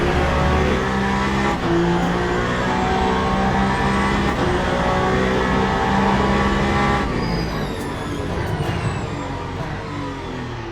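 A race car in Le Mans Ultimate laps the night-lit Bahrain circuit, its engine howling loud and close through repeated upshifts and revs, then easing to a lower drone for the final stretch, with no talking.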